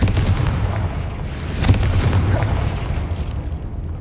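The Confringo explosive spell cast in the video game Hogwarts Legacy, a dense rumbling blast with a sharp burst partway through, loud and booming throughout, settling into a low roar.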